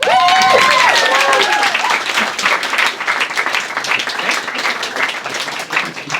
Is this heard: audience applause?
yes